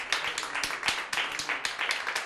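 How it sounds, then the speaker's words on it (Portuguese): A church congregation claps together in a round of applause for Jesus, a dense run of sharp, fairly close hand claps falling in an uneven rhythm with a crowd murmur behind. "Agora sim você pode dar uma salva de palmas a Jesus."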